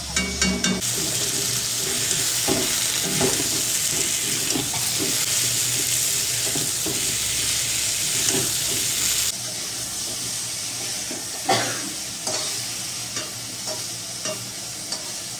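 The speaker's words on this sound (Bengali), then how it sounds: "একটু ভেজে নিচ্ছি, ফোড়ন দিয়ে তারপরে ওগুলো দিয়েছি।" Whole cut okra sizzles loudly in a frying pan with tempered spices, a dense steady fry broken by occasional scraping stirs and utensil knocks, heard up close with no talk.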